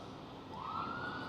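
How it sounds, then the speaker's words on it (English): A police car siren wails across a noisy background, a rising tone sweeping in midway and holding steady, moderately loud and fairly close, with no talking. "You hear that police car?"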